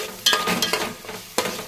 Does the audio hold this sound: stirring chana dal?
yes